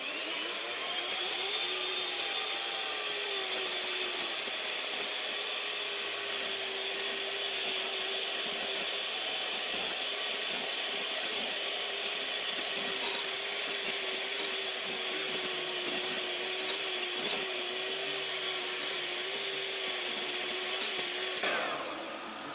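An electric mixer whisks aquafaba toward stiff peaks for a vegan chocolate mousse, giving a steady, close whirring drone that runs unbroken for over twenty seconds with faint rattles from the bowl.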